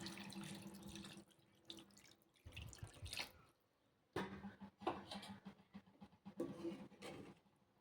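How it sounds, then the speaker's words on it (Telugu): Water is poured into a pot of fish pulusu, giving faint, uneven splashing and trickling bursts separated by brief quiet gaps. "దీంట్లో కొద్దిగా వాటర్ వేసుకుందాం"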